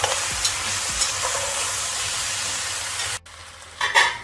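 Beef in chili sauce with finely cut carrots sizzles in a pan while a utensil stirs it in a few rhythmic scrapes, the frying hiss steady until a short pause and a final clink.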